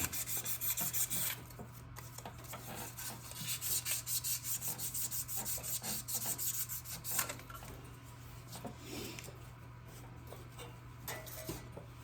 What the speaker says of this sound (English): I take a little bit of 600 grit sandpaper and polish it up a little bit.